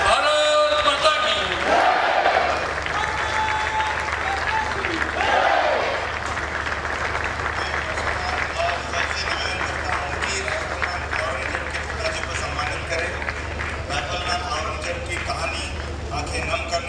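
An audience at a defence exhibition event breaks into loud, sustained applause, a dense wash of clapping that carries on steadily, with a voice heard over it at the start.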